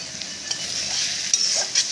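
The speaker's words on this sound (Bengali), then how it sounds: "ভালো করে কষিয়ে নেব।" Turmeric and chilli powder stir-fried in a pan for ghugni, a steady close sizzle with scraping stirs and a few louder spatula strokes, no voices.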